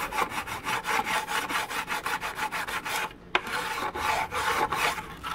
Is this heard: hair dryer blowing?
no